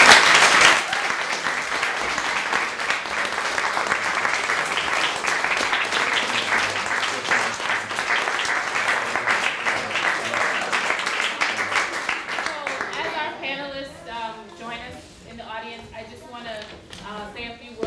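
An audience at the close of a summit panel breaks into sustained applause, dense clapping that holds steady for several seconds before thinning out into scattered claps as voices murmur and talk over it.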